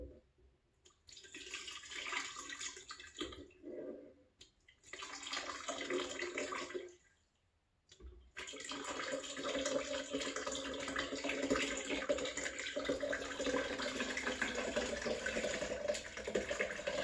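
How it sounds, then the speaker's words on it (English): Hot water pours into a container to rinse out honey for a homemade immune booster drink, a close splashing flow that runs in two short bursts, pauses briefly, then streams steadily and loudly to the end. "I actually rinse out the honey with the hot water to get all of the honey in there."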